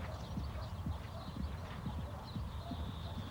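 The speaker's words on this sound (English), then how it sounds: "Every morning at Trentham, around 30 racehorses are worked." Racehorses being worked on the track at Trentham racecourse in the morning, with a steady run of muffled hoofbeats over a low rumble; a faint high tone runs across the background.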